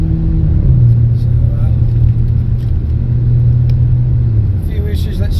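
An MG HS car drives on a road, with a loud steady engine and road rumble from inside the cabin and a drawn-out engine tone that shifts slightly, while people talk over it.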